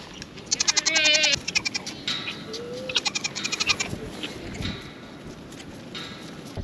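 Goats bleat in a pasture with rapid quavering calls, several overlapping near the start and another burst midway, then fading into quieter outdoor ambience.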